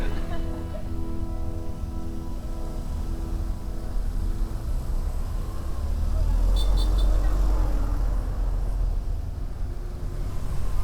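A Suzuki Burgman Street scooter rides through heavy, slow road traffic, its steady engine drone blended with a constant low rumble of surrounding vehicles, swelling louder midway with a brief higher whine.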